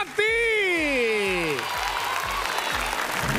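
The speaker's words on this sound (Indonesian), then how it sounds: "Tepuk tangan juga untuk Annabella Surbakti." A held tone slides downward as a talent show audience claps steadily, the applause loud and continuous and carrying on after the tone fades.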